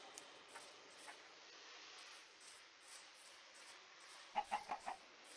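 Chickens in the Minecraft video game give a quick run of four soft clucks near the end, over faint hiss and scattered low game sounds, with no talk.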